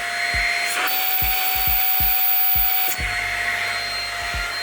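A vacuum cleaner runs during a van cleaning, giving a steady loud whine with a continuous tone, broken by a series of low, dull knocks as the nozzle bumps along.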